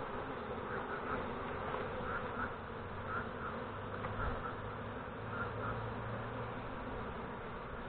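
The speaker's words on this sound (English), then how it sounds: "there is some bees trapped in between. I need to release them out." Honey bees buzzing steadily while being transferred into a small new hive box by a beekeeper in Malaysia, a constant dense hum of many insects with occasional louder passes of individual bees close by.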